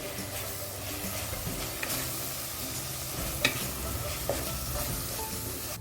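Spices and coriander sizzle in a hot pan while a spoon stirs and scrapes, with a few sharp clinks over the steady frying hiss.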